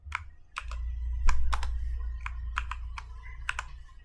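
Typing code on a computer keyboard, a series of crisp individual key clicks in an uneven rhythm, close-up over a low steady hum.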